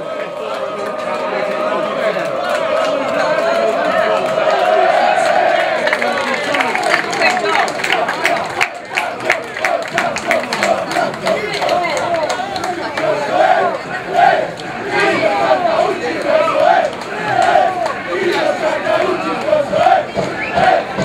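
Football fans of Ponsacco roar and chant after a 1-0 home win over Rosignano, a loud sustained crowd with rhythmic shouts and clapping, and a commentator speaking over the din.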